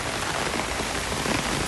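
Heavy rain pours in Phuket, Thailand, a loud, continuous hiss of drops striking the ground close by, unbroken and without talk.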